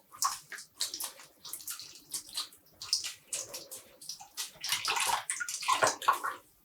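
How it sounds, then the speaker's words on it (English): Water sloshes and splashes in bursts as wet yarn is squeezed, streams pattering back into a basin, close and uneven. "And squeezing out the water."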